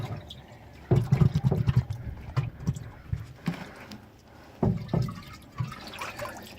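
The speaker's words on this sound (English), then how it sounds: "You just fill the watering can. You just fill it with water, right?" Rainwater is poured into a watering can, making uneven splashing and gurgling bursts of liquid that come close up, with a few pauses between them.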